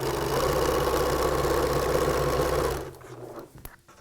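A sewing machine stitches through two-layer T-shirt quilt blocks, running steadily and loudly for nearly three seconds before stopping and fading into quiet handling noise.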